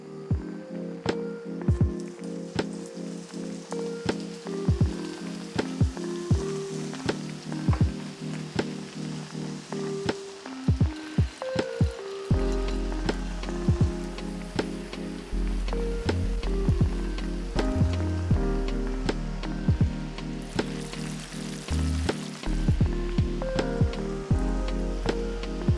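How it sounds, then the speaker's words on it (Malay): Tempeh sizzling in hot oil as it fries until crisp, a continuous crackling hiss with scattered pops and occasional clinks, heard close up and fairly quiet. "sekarang ni saya nak goreng tempe. Tempe ni kita nak goreng sampai garing"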